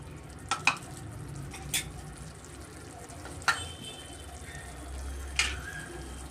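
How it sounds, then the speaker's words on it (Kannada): Ground masala paste for tomato bath frying in oil, a low steady sizzle under a few sharp spoon scrapes and clinks against the pan, fairly quiet and close. "ನಾವು ಸ್ವಲ್ಪ ಚೆನ್ನಾಗಿ ಎಣ್ಣೆಯಲ್ಲಿ ಫ್ರೈ ಮಾಡ್ಕೊಬೇಕಾಗುತ್ತೆ"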